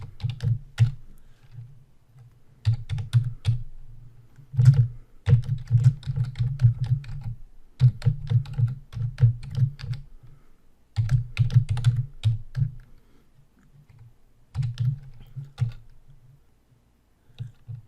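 Code being typed on a computer keyboard during a Python programming lesson, bursts of close, crisp key clicks separated by short pauses, alone with no talk.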